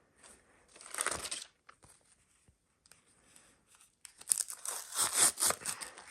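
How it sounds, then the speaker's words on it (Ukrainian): Paper packet being torn open in short ripping bursts, a brief rustle first, then a longer run of crinkly tearing, close and quiet. "І давайте відкриємо цей пакетик."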